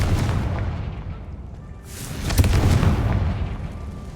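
A Confringo spell explodes in Hogwarts Legacy, a booming blast that swells midway with a rumbling burst and a few cracking pops, fairly loud and alone.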